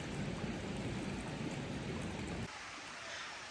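A wilderness river flows steadily near a campsite at dusk, a constant close rushing of water that drops slightly in level partway through, with no voices.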